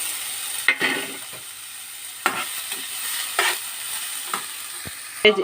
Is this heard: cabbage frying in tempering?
yes